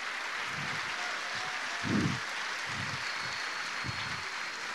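A church congregation claps along during a bilingual sermon, with several short bursts of applause in a pulsing rhythm, one louder swell in the middle, over a steady room hiss and a brief spoken word.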